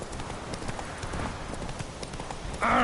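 Roach, a horse in The Witcher game, gallops in a rapid, steady clip-clop of hooves at close range, ending with a brief burst of louder music.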